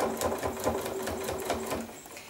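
A sewing machine stitching the seams of a fabric bag, a fast steady mechanical chatter of the needle running continuously up close, with no talking over it.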